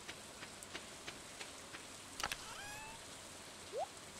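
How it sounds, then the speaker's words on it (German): Soft, steady rain patters in a Stardew Valley scene, with a few sharp clicks and a brief rising chirp breaking through the quiet hiss. "Es regnet."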